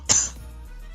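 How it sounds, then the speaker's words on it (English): A single short cough from a man who seems to be sick, sharp and close at the start, then quiet background. "why do I have to feel like I have to cough?"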